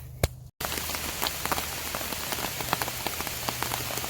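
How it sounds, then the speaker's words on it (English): Steady heavy rain patters densely on a surface, with scattered louder drops throughout, after a brief quiet moment at the start. "The rain is here, and it's getting heavier by the second."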